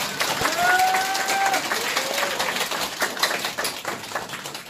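Crowd at a Korean patriotic party political rally applauding, a sustained burst of many hands clapping, loud at first and gradually easing, with a short whistle-like tone near the start.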